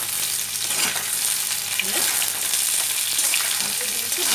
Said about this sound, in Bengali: অল্প করে ভেজে নেব এবার এর মধ্যে সজনের ডাটাগুলো দিয়ে অল্প